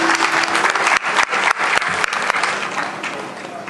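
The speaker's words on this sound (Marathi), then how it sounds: "कडकडीत टाळ्या झाल्या पाहिजेत, कडकडीत टाळ्या." Loud, sustained applause from an audience at a state-level teachers' award ceremony in Shirdi, dense clapping filling the hall throughout and tapering slightly toward the end.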